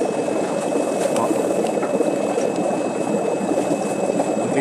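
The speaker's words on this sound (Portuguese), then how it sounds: "Vai dar água saindo lá no aquário, ó. E espera, vai devagar, esvaziando o filtro." Water rushes out of a Sunsun HBL aquarium canister filter as it is tipped and emptied, a steady, loud, continuous gush and gurgle with no talk over it.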